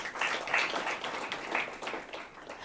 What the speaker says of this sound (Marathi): टाळ्या वाजून देवाला धन्यवाद देऊ.